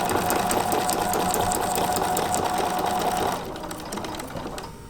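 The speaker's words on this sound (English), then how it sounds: "Once I have sewn all of the petals on the machine" A sewing machine stitches paper petals cut from up-cycled book pages, giving a loud, fast, steady mechanical whir and rattle that drops to a quieter run near the end, with no talk.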